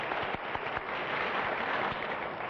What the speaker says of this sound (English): this is that does deserve a round of applause